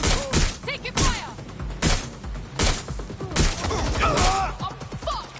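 Video game gunfire in a rapid sequence of sharp bursts and impacts, loud and close throughout, with shouting and yelling mixed in over the shots.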